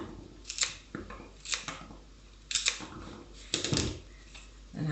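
Scissors snipping through flower stems for an Easter church arrangement, several crisp cuts at an irregular pace, close by and fairly quiet.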